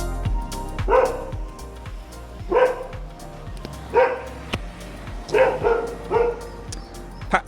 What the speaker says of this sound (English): He's found a dog to upset.